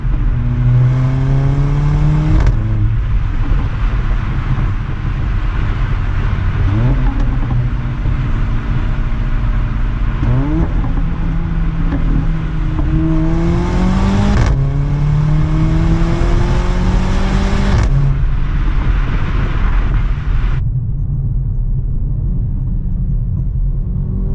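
Close, loud Mercedes GLA 45 AMG engine accelerating through several gear changes, with sharp exhaust pops at the shifts before it eases off.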